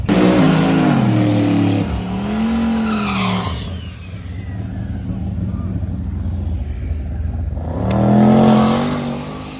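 A drag racing car roars down the strip with a loud high-revving engine that climbs through gears, fades as it pulls away, then another engine swells back in close by.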